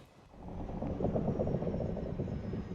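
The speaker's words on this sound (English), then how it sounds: "I like that we hear the helicopter sort of like disengaging and we don't actually see him land" A helicopter in an action movie scene, a steady low rotor and engine rumble that swells in and holds loud and close, with no talk over it.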